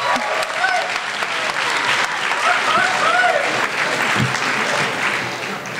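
Dense, sustained clapping from a crowd at a school district honors ceremony, loud and even throughout, with faint voices and cheers mixed in.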